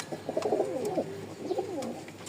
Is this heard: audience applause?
no